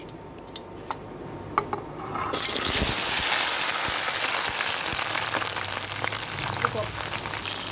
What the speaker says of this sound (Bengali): তো আগে আমরা ভিন্ডিটাকে একটু ফ্রাই করে নেব